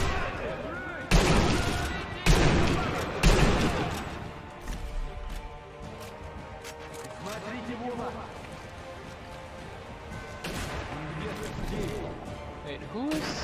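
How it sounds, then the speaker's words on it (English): Sniper Elite V2 gunfire: several sharp, loud shots crack in quick succession early on, then sporadic fainter shots echo through a jungle setting while players talk. "who's shooting?"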